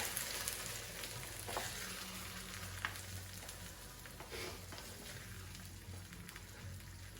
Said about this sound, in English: you want to give that a good stir